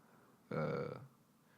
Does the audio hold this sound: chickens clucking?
no